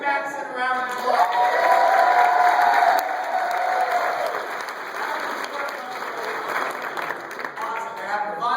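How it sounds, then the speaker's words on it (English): An audience bursts into loud, sustained clapping and cheering at a wine tasting event, with an excited voice ringing out over the crowd before the applause slowly thins. "give Madison a round of applause"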